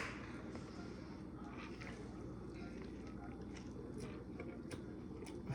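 Someone eats crunchy tacos with hot sauce. Soft, irregular crunching and biting sounds come through close but quiet, with a faint murmur of voices in the background.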